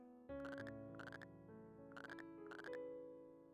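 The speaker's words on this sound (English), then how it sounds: "It is Frog." A cartoonish frog croak from the video game Vampire's Melody 2 repeats in four rhythmic bursts over a sustained musical backing, clear and prominent with no speech.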